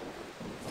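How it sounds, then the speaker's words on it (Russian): Rain and a low thunder rumble in the video game Far Cry 3, a dense steady hiss of rainfall with a soft rolling swell underneath, moderately loud with no voices. "Блин, дождь в играх всегда."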